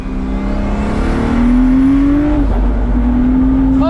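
Pagani Huayra AMG V12 800 hp hypercar launching hard with tires spinning, a loud steady engine roar with a rising whine that dips briefly mid-run, then carries on strongly.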